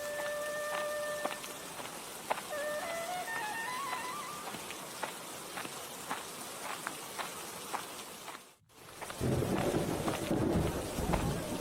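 Cartoon storm with steady rain patter and scattered drips, a few tonal effect notes early on, then a deep rumble of thunder rolling in loudly after a brief hush near the end; no speech.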